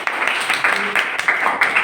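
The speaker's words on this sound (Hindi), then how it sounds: "दीपक को तालियां इसलिए बजाई जाए।" A hall audience claps for a first-place student at a Hindi Day college event, steady applause with no break for the length of the clip, loud and close.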